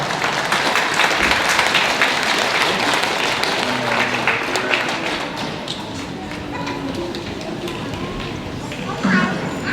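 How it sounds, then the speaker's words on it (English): Crowd at a First Nation graduation ceremony applauds for a chief, a broad, loud wash of clapping with thumps and murmuring voices running underneath throughout. "Give her a round of applause"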